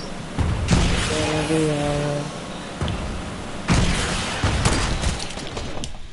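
Enemy gunfire in a video game shootout through windows, loud bursts and cracking shots arriving in clusters with brief pauses, plus a tonal hum between volleys.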